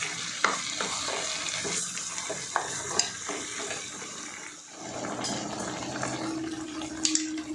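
Chickpea masala for a bamboo shoot pickle simmers on a low flame, with a continuous soft bubbling and sizzle broken by occasional stirring clicks and utensil taps against the pot.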